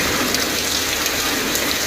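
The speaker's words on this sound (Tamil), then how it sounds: "காற்றுடன் மழை பெய்தது" Rain falls with wind over suburban Chennai, including Porur and Maduravoyal, as a steady, dense, loud hiss with no gaps and no voices.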